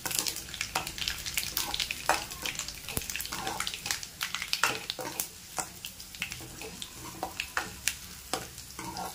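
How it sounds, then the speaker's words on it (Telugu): Tempering spices sizzle and crackle in hot oil in a home kitchen while making Telugu palakura pappu (spinach dal), with steady close frying hiss and frequent sharp taps of stirring throughout. "పోపు అనేది బాగా గోల్డెన్ కలర్ లాగా వచ్చేంతకు వేపుకోవాలి."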